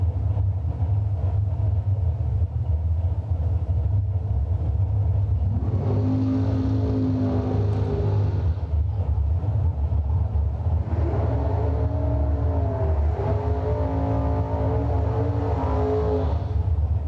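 A door car dragster accelerating down a drag strip, its engine rising in two long roaring pulls over a constant low rumble, loud and sustained with a brief lull between runs.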